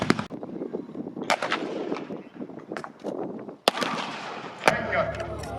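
A Second World War battle reenactment with a German 37mm Pak 36 anti-tank gun and artillery firing blanks at a Matilda tank, several sharp, loud booms at irregular intervals over outdoor crowd noise and rumble.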